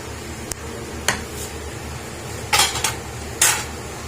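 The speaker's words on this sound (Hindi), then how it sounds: "कवर को उठाएंगे।" A lid is lifted off a pot of mutton pulao after the rice has steamed on low heat: a few short metallic clinks and clatters spaced over a few seconds, with no talk.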